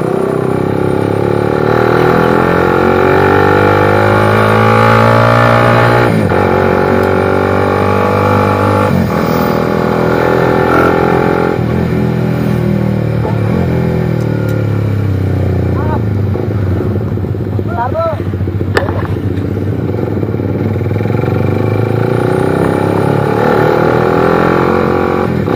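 Suzuki GSX R150 motorcycle engine revving and accelerating through the gears on a ride near Bogor, a loud steady drone with rising and falling pitch, wind buffeting throughout and a rider's voice talking over it.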